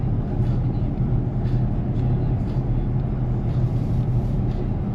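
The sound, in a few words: 2024 Ford Mustang GT V8 engine roar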